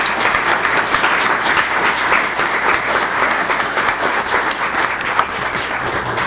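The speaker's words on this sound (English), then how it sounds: "I'd like to have you folks join me in a round of applause thanking each one of our candidates for being here." An audience at a business-focused candidate forum applauds the candidates, a steady patter of many hands clapping at moderate volume with no talk over it.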